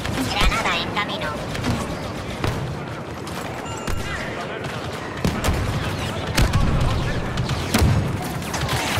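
Multiplayer battle in Star Wars Battlefront II, with dense blaster gunfire and booming blasts including a grenade explosion, continuous and loud, under occasional voices.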